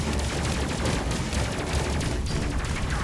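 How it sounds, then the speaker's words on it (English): An autocannon firing in the space combat video game Space Crew gives a dense, continuous roar of rapid shots and explosions that stays loud throughout. "Quite interesting, that autocannon."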